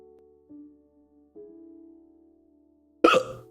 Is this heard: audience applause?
no